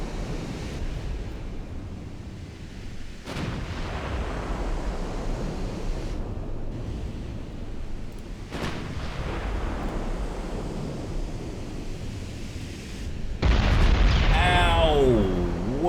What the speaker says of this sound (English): I might as well fire HE at this range.